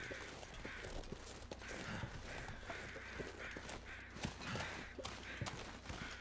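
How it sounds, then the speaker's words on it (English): Crows caw repeatedly over a busy, crackling outdoor ambience in the survival video game The Long Dark, their harsh calls coming at irregular intervals at moderate distance. "What are those crows there for?"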